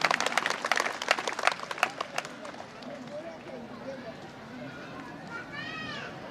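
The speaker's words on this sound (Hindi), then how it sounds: "सो एक जोरदार तालियां हमारे मैनेजिंग डायरेक्टर सर के लिए।" Students and guests at a school annual function clap for the managing director in a short, lively burst. The clapping fades within about two seconds, and then a single voice speaks over quiet room noise.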